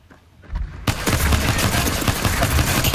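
P2020 pistol firing in a video game: a loud, dense run of rapid shots that starts abruptly after a short, quieter lead-in and continues without pause.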